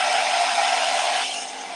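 A T3 Fit compact hair dryer blows in a steady, close, airy whir that holds even for most of the stretch, then eases slightly lower near the end, with no talking.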